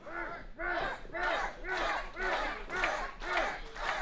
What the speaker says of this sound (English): The crowd started to chant for Burt,